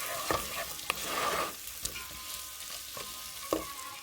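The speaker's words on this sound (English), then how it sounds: "Let the paneer which are blended with the spices roast on the butter for some time." Spiced paneer roasting in butter in a pan, a steady close sizzle broken by several sharp stirring scrapes and clicks.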